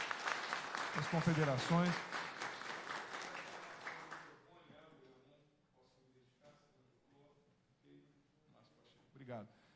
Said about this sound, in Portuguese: Eu quero pedir uma salva de palmas para os presentes aqui,